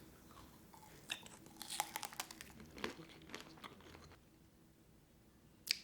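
Candied hawthorn tanghulu with a hard sugar shell is bitten and chewed close up, giving a run of crisp crunches and cracks followed by quieter chewing and a final sharp crunch.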